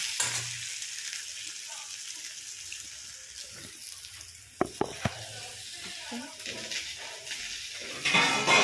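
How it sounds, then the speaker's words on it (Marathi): Onions frying in oil for chicken masala, a soft continuous sizzle with a few sharp clicks and scrapes from stirring, moderately close and fairly quiet. "जोपर्यंत कांद्याला तेल सुटत नाही आहे तोपर्यंत त्याला भाजतच राहायचं"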